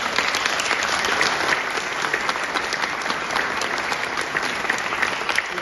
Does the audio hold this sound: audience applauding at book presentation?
yes